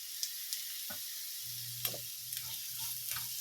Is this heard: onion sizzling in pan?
yes